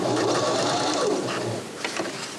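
A Viking Emerald sewing machine runs close and steady, its needle stitching in a fast mechanical whir that slows and stops near the end.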